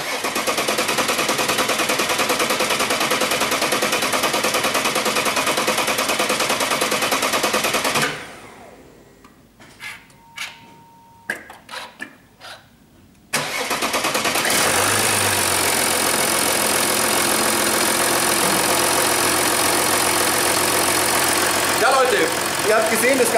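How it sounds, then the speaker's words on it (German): An Audi 3.0 TDI diesel engine, just after a fuel filter change and bleeding, with a loud steady roar, then a quiet stretch of clicks before it cranks, fires and settles into a loud, steady idle close by. "jetzt den Motor starten"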